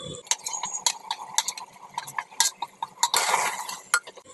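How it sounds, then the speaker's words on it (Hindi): Spices and mutton stirred and fried in a pot for Lucknowi khichda, a spoon scraping and clinking against the metal in quick irregular strokes over a soft sizzle, close and moderately quiet. "अब इन मसालों को हम कम से कम 15 मिनट तक के भूनेंगे।"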